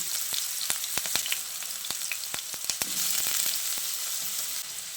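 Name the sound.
diced potatoes frying in hot mustard oil in a wok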